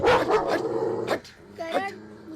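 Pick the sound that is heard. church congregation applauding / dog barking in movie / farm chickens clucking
dog barking in movie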